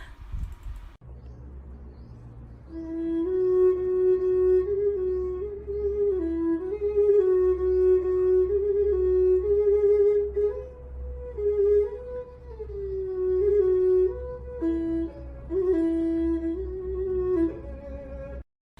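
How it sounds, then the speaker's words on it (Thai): A Thai so u fiddle plays a low, mellow, slow gliding bowed melody with sliding pitches, sustained and fairly loud throughout, ending suddenly. "ต่อไปเป็นเสียงซออู้นะ"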